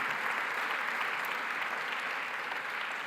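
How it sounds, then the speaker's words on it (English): An audience at an education award ceremony gives a sustained round of applause, a smooth, even wash of many hands clapping at once, moderately distant and fairly quiet, with no talking over it. "That deserves a round of applause in this environment."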